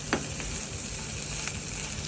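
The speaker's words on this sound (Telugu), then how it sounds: "ఒకసారి మొత్తం బాగా కలిసేలాగా కలుపుకోవాలి." Drumstick leaf fry being stirred in a pan, with a steady close sizzle and scraping of the spoon throughout and no talk.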